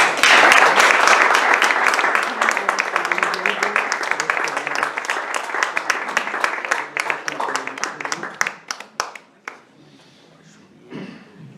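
Lecture-hall audience in an Asturian cultural centre applauding a speaker at a poetry event, a dense burst of clapping that slowly thins into scattered claps and fades out near the end.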